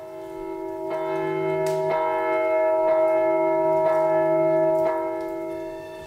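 A church bell being rung at a bell-baptism ceremony in a French village, sounding six resonant strikes about one second apart, each leaving a long humming tail, with no voices.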